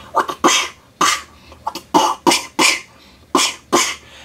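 A voice close to the microphone imitates movie punch sound effects, producing a rapid series of about a dozen sharp, breathy bursts with short gaps between them.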